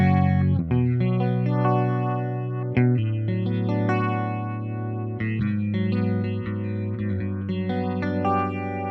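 An electric guitar through a Fractal rotary effect plays sustained chords and notes with a swirling, phaser-like modulation, loud and continuous with a couple of brief breaks between phrases.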